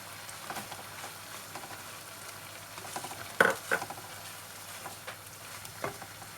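Butter melts and fries with chicken karahi in a pan, a quiet steady sizzle with soft spattering pops and a couple of louder scraping clatters from a utensil.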